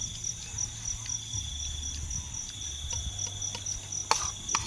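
Steady crickets and insects trill through a quiet rural night, with a low continuous croaking of frogs underneath and a few faint clicks and taps near the end; no talking.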